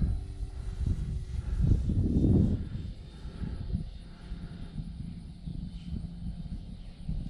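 A SIG Kadet Senior Sport RC model airplane makes a slow pass, its propeller engine drone swelling briefly and then fading back into steady distant hum with some wind noise.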